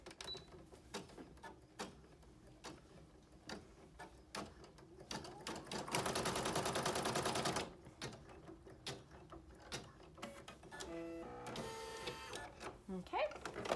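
A sewing machine stitching the thumb of a fleece in-the-hoop mitten runs in a loud steady burst midway, with another rhythmic run near the end, set between scattered clicks and handling noises.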